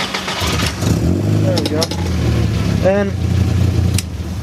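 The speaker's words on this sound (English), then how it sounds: "now you can start it up with the screwdriver" A 1999 VW Golf MK4 with no immobilizer, started by turning a screwdriver in the ignition: the engine cranks and catches, then runs at a rough, steady idle close by while someone talks.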